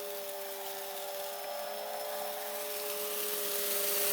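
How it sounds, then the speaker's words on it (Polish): An Aqualaser turbo vacuum cleaner drawing dirt up from a carpet gives a steady, close motor whine with a constant pitch, running alone without pause. "tak jak klasyczny odkurzacz wciąga cały brud do środka"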